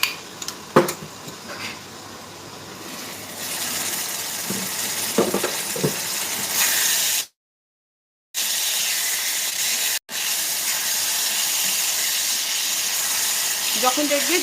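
Ridge gourd cooks in oil in a pan for a Bengali jhinge bahar, giving a steady hiss and sizzle with occasional pan clatters as it is pressed down. A brief silent gap interrupts it partway through.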